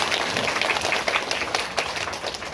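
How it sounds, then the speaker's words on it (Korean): Audience applause for the mayor at a Parents' Day celebration, a dense, steady clapping that fills the whole stretch at moderate loudness. "우리 시장님 큰 박수 한번 부탁드리도록 하겠습니다."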